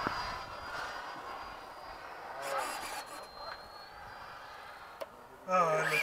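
An FMS 70mm A-10 V2 radio-controlled jet with twin electric ducted fans flies overhead, a steady whooshing roar with a high whine that swells and fades as it passes, with brief voices and a loud burst near the end.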